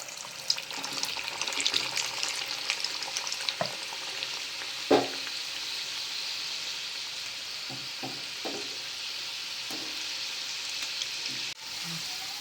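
Aloo patties fry in hot oil with a continuous, fairly loud close-up sizzle and crackle, broken by a few sharp clicks and taps of a utensil.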